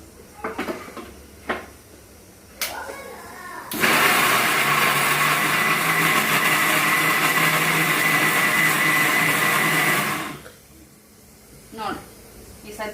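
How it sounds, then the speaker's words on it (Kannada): A mixer grinder whirs loudly and steadily for about six seconds while blending red chutney with salt, with clattering of the jar and lid before and after and a voice speaking around it. "ಸ್ವಲ್ಪ ಇದನ್ನ ಮಿಕ್ಸಿ ಮಾಡ್ಕೊಳೋಣ"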